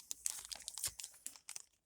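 A small plastic case crinkles and crackles in short, quiet bursts as a vintage Commodore calculator is unpacked from its box, close up and with no talking.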